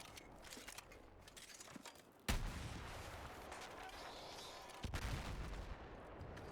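RPG anti-tank weapon in Battlefield 6 fires two heavy booming shots a few seconds apart, each a sudden loud blast followed by a rumbling tail.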